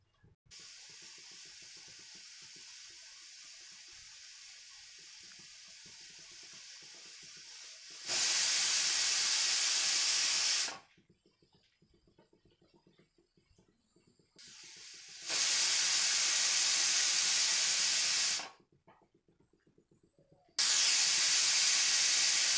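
Three loud bursts of hissing steam from a pressure cooker whistle over high flame, cooking carrots for halwa, each lasting a few seconds, separated by quieter stretches of low background noise.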